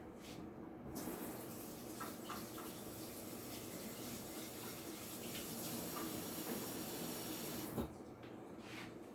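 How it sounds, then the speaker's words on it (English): Water runs from a kitchen sink tap over rinsing hands, a steady, fairly quiet splash and hiss with a few brief clunks, no one speaking. "Just so I rinse some of that off my hands"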